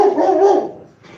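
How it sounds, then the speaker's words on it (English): A dog gives one loud, close, drawn-out bark or howl lasting over half a second, then fades, in a room where old HO scale diesel locomotives are being cleaned. "that's my dog."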